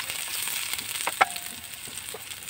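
Onions hitting a hot pan with garlic already in it, giving a steady soft sizzle and frying hiss with a brief louder crackle partway through, fairly quiet and close.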